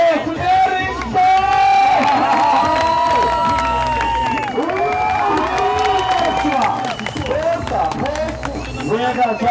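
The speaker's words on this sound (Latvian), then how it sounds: "Aplausi Nerimstā!" Crowd at a Ghetto Games BMX pro final cheering and applauding in a loud, sustained roar lasting the whole stretch, with an announcer talking over it.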